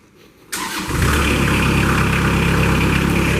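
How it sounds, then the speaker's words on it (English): A Kubota diesel engine on a Moffett piggyback forklift cranks briefly and then catches, settling into a loud, steady idle with a low rumble inside a shop. "So you got your Kubota engine coming to life."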